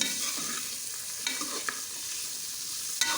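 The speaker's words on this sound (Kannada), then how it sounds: "ಇದನ್ನು ನಾನು ಚೆನ್ನಾಗಿ ಫ್ರೈ ಮಾಡ್ಕೋತೀನಿ" Vegetables stirred and fried in a pan make a constant close sizzle, broken by a few soft scrapes and clinks of the spoon against the pan, with no voices.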